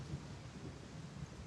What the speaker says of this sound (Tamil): மழைலாம் பெய்யுது